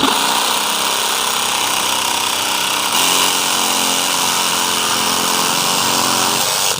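Dewalt DCS312N cordless reciprocating saw cutting through a workpiece, a loud sustained harsh buzz running the whole time with a brief change in tone partway through, no speech.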